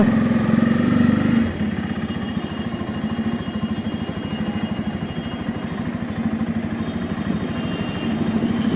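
A 2024 Bajaj Pulsar N250 motorcycle engine fires up and settles into a steady, throbbing idle with an even mechanical pulse, close and loud throughout.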